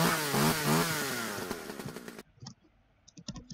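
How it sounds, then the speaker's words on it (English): Chainsaw-like buzzing from a beaver cutting down a tree in a modded Minecraft survival game: a loud, harmonic motor whine sweeping in pitch for about two seconds, then cutting off abruptly and leaving scattered clicks. "Why do I hear a chainsaw?"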